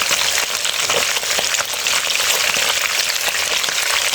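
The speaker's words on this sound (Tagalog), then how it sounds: "So, ayan ang ating pinipruto." Fish marinated in pepper, salt, garlic and vinegar frying in oil: a dense, steady, close sizzle with fine crackles running throughout, with no voices.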